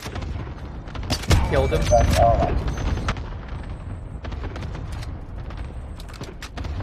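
AK rifle gunfire in a first-person shooter video game, a burst of rapid crackling shots followed by scattered sharp reports that taper off. A voice speaks briefly over the shooting.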